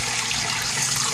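Water rushes continuously and loudly in a barrel aquaponics system during its fill and drain cycle, with a steady hiss of air being drawn in and bubbling through a hose.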